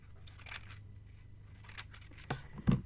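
Paper scissors snip fringe lines into a sheet, several sharp separate cuts spaced irregularly, close and fairly quiet, with a louder final snip.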